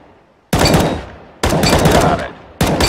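Short bursts of automatic gunfire in the video game CS GO, three loud, close bursts each lasting under a second and separated by brief gaps of quiet, with no voices.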